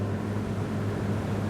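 Twin engines of a 2001 Baia 54 motor yacht under way as the throttle is opened: a steady, dense low drone with strong hum and broadband rush, even and continuous, with no voices.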